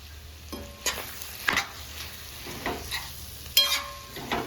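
Boti fry, goat tripe cooked with masala, sizzles steadily in a pan while a spoon stirs and scrapes through it in several short, close bursts, with no talking.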